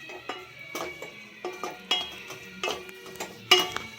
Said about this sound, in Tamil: நம்ம பொடி போட்டு அந்த மசால் வாசனை வந்து போகிற அளவுக்கு நல்லா வதக்கிக்கலாம்